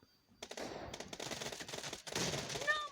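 Rapid automatic gunfire in the mobile battle royale game PUBG Mobile, bursts of sharp cracking shots rattling close and fast for several seconds, moderately loud with a brief pause before another volley.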